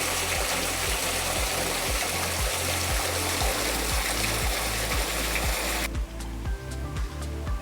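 Stream water flows steadily into swimming pools in the Blackdown Tablelands, a loud, close, continuous rush that drops suddenly near the end.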